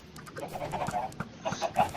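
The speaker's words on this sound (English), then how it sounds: "we now have a massive chicken farm here that is actually working" Chickens cluck in short, irregular bursts at a large chicken farm in Minecraft, several birds fairly close with quiet background noise between calls.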